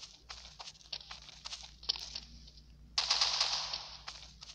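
Gunfire in the video game Special Forces 2: bursts of rapid shots crackle in uneven clusters, with a denser, louder stretch of firing near the end, no talking over it.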